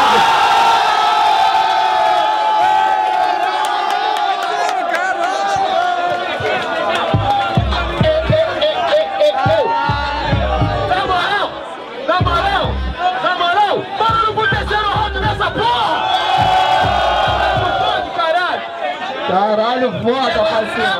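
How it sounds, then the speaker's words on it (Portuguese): A crowd at an outdoor Brazilian rap battle in São Gonçalo roaring, cheering and whooping loudly and continuously, with shouts and babble throughout. "Barulho que gostou da rima do MC Nego Drama"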